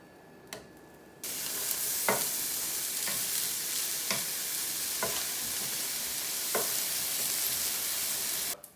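Mushrooms frying in butter in a pan, with a small clatter before a steady hissing sizzle sets in and holds, broken by several light taps and clicks of a utensil, close and fairly quiet.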